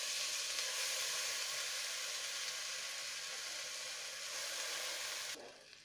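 Washed rice sizzles and hisses steadily in hot ghee with spices for beef biryani, a dense, even frying noise close to the pan that cuts off abruptly at the end.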